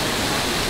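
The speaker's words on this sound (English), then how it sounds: "Look at this waterfall, it's beautiful." Waterfall near Dumaguete, Philippines: a brief, loud, broadband rush of falling water, steady and noise-like with no voices.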